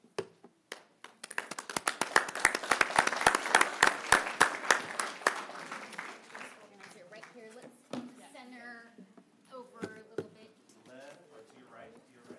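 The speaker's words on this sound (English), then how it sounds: "One last round of applause." Audience applause at a Citrus Heights city council meeting, a dense burst of clapping from a room full of people that peaks early and fades after several seconds into scattered claps and voices.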